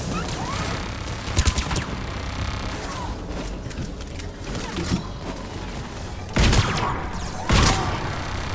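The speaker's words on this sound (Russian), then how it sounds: "эта пушка так стреляет" Weapons fire rapidly in a firefight in the video game Mass Effect 3 Legendary Edition, with steady rattling bursts and a couple of sharper, louder blasts near the end, and no talking.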